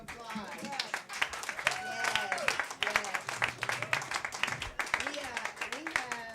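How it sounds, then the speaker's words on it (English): Indoor audience at a tribute event applauding the performing artists, a dense burst of clapping from a crowd, close and lively, with a voice talking over it. "Give all the artists a round of applause."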